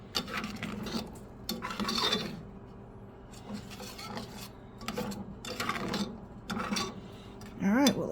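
Spatula scraping and stirring eggs cooking in butter or margarine in a pan on a home stove, soft repeated rasping strokes at an uneven rhythm, fairly quiet and close with no talk.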